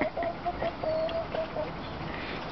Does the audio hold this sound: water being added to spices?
no